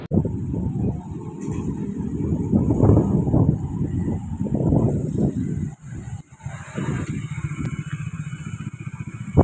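Benelli TRK 251 touring motorcycle on the move, its engine a steady low drone blended with wind buffeting against the microphone, heard continuously at close range.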